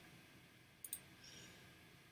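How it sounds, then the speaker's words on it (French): A computer mouse gives a quick double click, faint and close in an otherwise quiet room. "Donc, je clique sur l'image"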